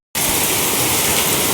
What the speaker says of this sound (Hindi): बहुत तेज बारिश हो रहा है। देखो बारिश, मतलब मेरे घर के सामने का हालात देखो